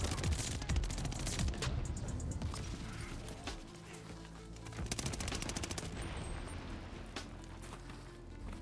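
Rapid bursts of gunfire from a gun in the World War II shooter Call of Duty: Vanguard, dense and loud near the start, then steadier shots and clatter continuing throughout without talk.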